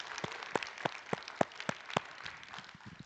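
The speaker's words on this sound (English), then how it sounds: "join me in thanking all of our panelists this evening with a warm set of" Applause from an audience thanking panelists at a coral reef film panel discussion, a thin scattering of claps under steady patter, fairly quiet and sparse over three seconds.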